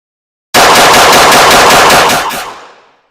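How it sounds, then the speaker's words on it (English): Ten rapid pistol shots fired as fast as the trigger can be pressed on a shooting range, a loud, tightly spaced burst that ends in a fading echo. "I'm going to come out and fire 10 shots."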